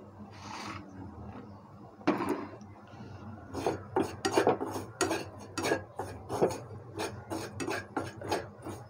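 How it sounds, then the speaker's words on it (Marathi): Semolina (rava) being dry-roasted in a pan for crispy karanji, close rasping scrapes of a spatula stirring the grains against the metal in quick repeated strokes, growing more rhythmic as it goes. "रवा भाजून घेऊया. थोडासा लालसर असा हा रवा आपण भाजून घ्यायचा आहे."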